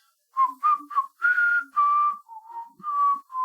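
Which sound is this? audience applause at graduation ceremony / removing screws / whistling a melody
whistling a melody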